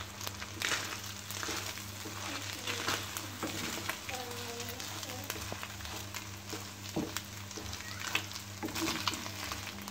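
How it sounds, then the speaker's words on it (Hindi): Chicken fries in a pan with a steady, moderate sizzle and occasional stirring scrapes. A low electrical hum runs underneath, and faint voices are heard now and then. "ये आप देख रहे हैं चिकन अभी फ्राई हो रहा है।"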